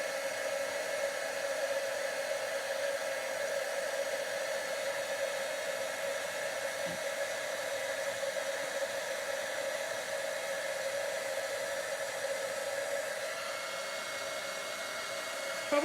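A heat tool blows a steady, close, whooshing hum like a hair dryer while melting embossing powder, running continuously with no talk.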